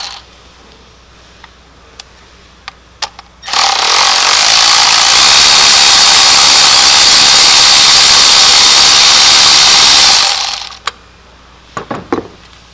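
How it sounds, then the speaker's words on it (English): A power ratchet spins spark plugs out of a 2024 Audi Q5 engine, giving one loud, continuous whirring burst of about seven seconds, with light tool clicks and taps before and after. "Ratchet to speed up the process."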